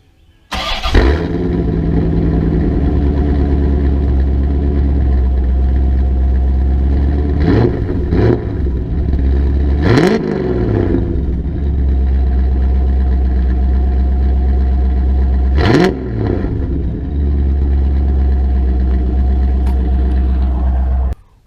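A loud, deep engine of a 1991 C4 Corvette with muffler eliminators rumbles steadily at close range, with a few sharp revs rising and falling over the idle.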